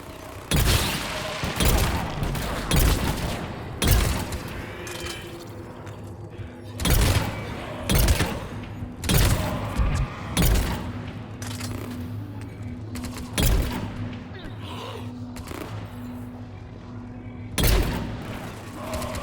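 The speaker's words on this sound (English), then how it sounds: "We're in the middle of a firefight right now." Firefight gunfire in Mass Effect 3, repeated loud shots and heavy thuds in irregular bursts spread across the scene, with some booming impacts and a low background hum.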